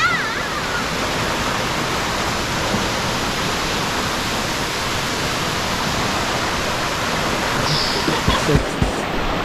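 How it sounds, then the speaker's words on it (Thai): Powerful rushing water roars steadily and loud, a dense waterfall wash that fills everything, with a few faint knocks near the end. "น้ำไหลโคตรแรงเลย ถ้าลื่นปุ๊บนี่เรียบร้อย"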